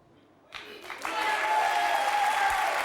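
A French TV game show studio audience bursts into applause to vote for a contestant, the clapping swelling quickly into a loud, steady ovation that carries on to the end.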